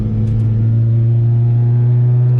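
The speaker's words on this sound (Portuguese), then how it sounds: "Cara, muito instigante esse escape" A Subaru Vivio kei car engine idles steadily and loudly nearby, its small aftermarket exhaust giving a deep, even drone with a slight rumble and no change in revs.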